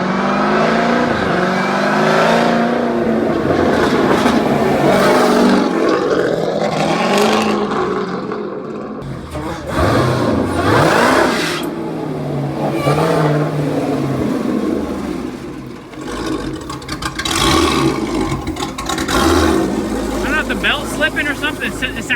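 Baja-built 1000HP Jeep Trackhawk revs hard with a slipping front belt, its loud engine surging and falling in repeated pushes, with people talking over it.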